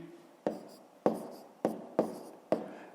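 Pen or pencil strokes writing numbers by hand during a fifth-grade math subtraction exercise, five short crisp scratches recurring at roughly half-second intervals, close and fairly quiet, with no voices.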